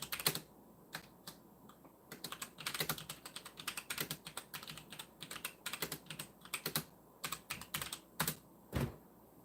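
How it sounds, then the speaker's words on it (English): Rapid, irregular clicking of keys on a computer keyboard, close and fairly quiet, in bursts of typing with short pauses and no talk. "Stop typing."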